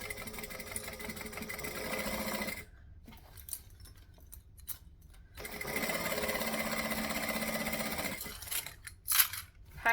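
Sewing machine stitching travel bag fabric together in two steady runs of motor whir and needle chatter, with a quiet pause between them and a few handling clicks near the end.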